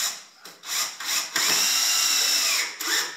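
A power drill drives screws into a cedar chair, several short close whirring bursts separated by brief pauses, then one longer sustained run as a screw is sunk.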